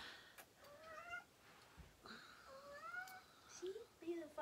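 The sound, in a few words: cat meowing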